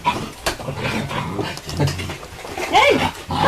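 Feisty puppies pant quickly and whimper up close, with a high, wavering whine standing out near the end among the snuffling and movement.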